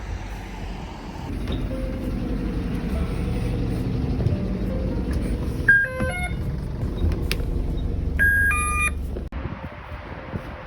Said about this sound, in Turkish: Ya otobüs geliyor.